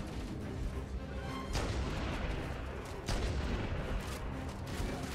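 Sniper rifle shots aimed at hunters in Halo: Combat Evolved ring out as two heavy, booming cracks about a second and a half apart, over a loud, steady bed of battle noise.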